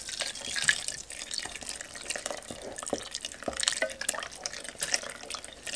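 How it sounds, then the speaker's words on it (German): Boiling water poured into vegetable broth sauce while cooking an iftar meal, a continuous splashing, trickling stream with irregular drips, close and moderately loud throughout. "Und jetzt verrühren wir das mit kochendem Wasser."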